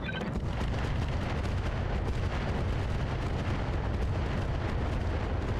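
Heavy mech weaponry fires in Battletech Roguetech, a dense, continuous barrage of booming explosive blasts and cannon fire filling the whole stretch, loud and close with no voices.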